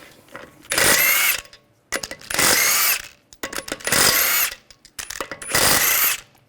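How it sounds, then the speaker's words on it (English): An impact gun with a 17mm socket spins out the wheel lug bolts on a 2009-2010 BMW 535i xDrive 3.0L L6, giving four loud, evenly spaced whirring bursts separated by short clicks and pauses. "use a 17mm socket, take the lug bolts out"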